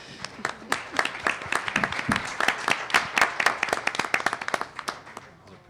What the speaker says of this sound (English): So come up here and get a round of applause, because you deserve it.